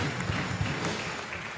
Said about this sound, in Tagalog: isa pa pong palakpak na pa-congratulate sa ating mga bagong kumpil